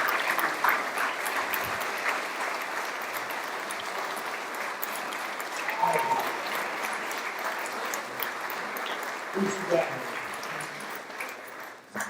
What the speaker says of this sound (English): everybody give them a warm round of applause.